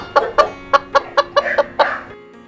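Chickens in an animated Tamil moral story cluck in a quick series of about eight sharp, loud calls within two seconds, close and clear with no talk.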